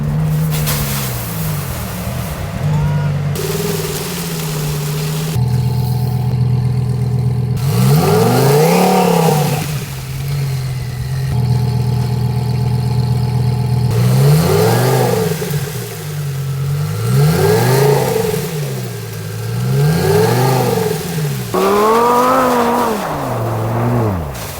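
A car engine revs hard in repeated rising and falling bursts while the vehicle sits stuck on a loose gravel hill, with wheels straining between surges; loud and close, no talking.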